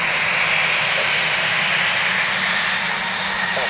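An aircraft engine at Dublin Airport roars loud and steady, a broad continuous rumble with a high whine on top that never lets up.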